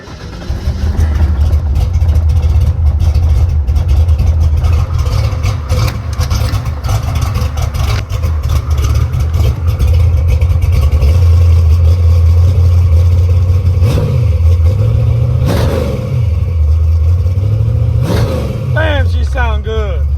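A freshly rebuilt car engine starts and idles with a loud, steady low rumble, then revs up in several rising and falling surges toward the end.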